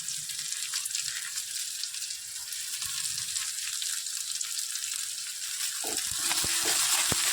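Onion and spring onion sauté in a pan with a steady, close crackling sizzle and occasional stirring scrapes, plus a few brief clinks near the end; no one speaks.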